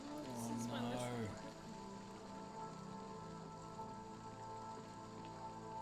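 Steady rain falls throughout a scene from a Moon Knight episode. The rain keeps up an even patter while voices talk over it, one of them rising and sliding in pitch near the start.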